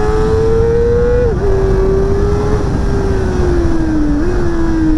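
A Kawasaki ZX-4RR motorcycle engine screams loud and close at very high revs past 10,000 rpm, a steady high-pitched whine that sags slightly and jumps back up twice as gears change, with no voices.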